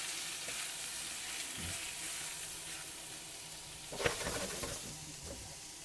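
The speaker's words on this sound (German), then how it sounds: "Und das haben wir jetzt einmal scharf anbraten" Meat for Serbian Reisfleisch sizzles steadily as it sears in a hot pan, with a couple of louder crackling bursts and a brief stir partway through.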